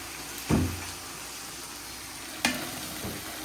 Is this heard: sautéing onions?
yes